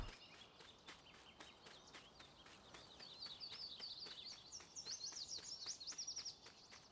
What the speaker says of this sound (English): Birds are certainly having a good time.